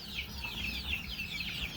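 Chickens cluck softly in a coop at night, faint repeated chirpy calls over a low background hum.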